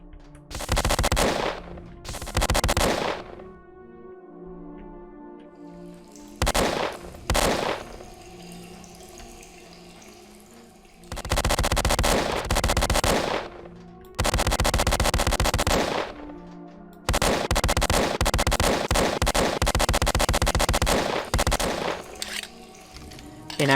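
Guns in the shooter game Squadron AIU: Dark Storm fire in several long bursts of rapid shots. The loud strings of fire are broken by short quiet gaps.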